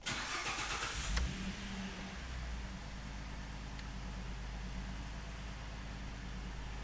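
A Ford vehicle's engine cranks and starts in a garage, with a loud brief crank giving way to a steady, low idle that continues alone.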